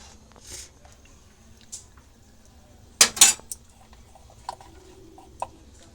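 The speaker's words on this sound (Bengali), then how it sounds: "1 চামচের মতন ঘি দিলাম" A spoon taps and scrapes against a pot while ghee goes into fish-head moong dal, a few light clinks and one sharper clatter of metal in a quiet kitchen.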